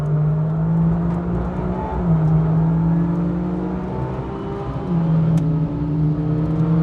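BMW M2 racing hard around the Nürburgring, engine loud and close, climbing through the revs with two clear drops at gear shifts before rising again, no speech over it.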